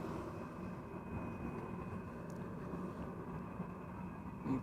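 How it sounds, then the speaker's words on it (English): A Cessna 510 Citation Mustang business jet at Amsterdam Schiphol Airport, a steady distant engine roar and rumble holding at a low, even level throughout with no talk. "The Cessna 510 Citation Mustang, 15 years old, first flight January 2008."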